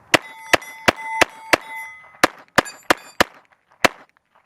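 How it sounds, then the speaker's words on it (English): A Glock 44 pistol fires a magazine of .22LR Golden Bullet ammunition: about eleven sharp, loud, close shots at an uneven pace, each with a brief metallic ring, ending with a short pause before the last shot. "a mag of golden bullet through the Glock 44."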